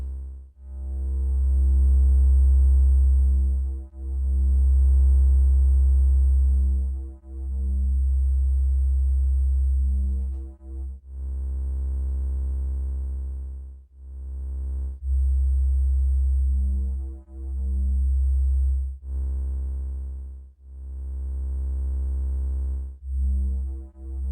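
Synthesizer sine tones pulse in long, smooth swells, comparing ring modulation with amplitude modulation; a deep, pure hum rises and falls in repeated rounded waves with faint higher overtones, no voices.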